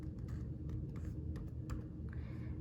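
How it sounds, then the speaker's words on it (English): Quick, light clicking on a computer keyboard as a password is entered, a short burst of soft close keystrokes with no talking. "type in my password"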